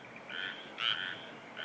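A frog croaks in a few close, rasping bursts, the middle one strongest, with brief gaps between calls and no other sounds.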